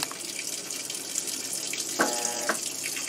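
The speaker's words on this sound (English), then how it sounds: "what it's doing right now is saturating the clothes evenly, flooding in the detergent" A Maytag MVW6200KW 5.5 cu. ft. top-load washer fills with water and detergent, a steady close rush of pouring water with a brief surge midway, and no talking.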